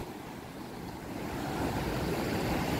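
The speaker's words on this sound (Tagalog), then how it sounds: "Yung alon. Nagangalit na." Ocean waves at Pagudpud Blue Lagoon, a white sand beach, surge as a broad, steady roar that builds slightly louder toward the end, with wind mixed in and no voices.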